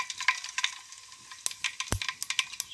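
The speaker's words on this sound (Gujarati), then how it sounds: "સૌથી પહેલાં આપણે રાઈ નાખી દઉં તેલમાં" Sharp scattered pops and crackles from mustard seeds spitting in hot oil, quiet and irregular, with a faint sizzle underneath.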